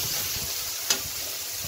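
Ground spices including turmeric fry briefly in hot oil in a pan, ahead of potato and ridge gourd for an egg curry. A steady close hiss of sizzling holds throughout, with one sharp tick midway and no voices.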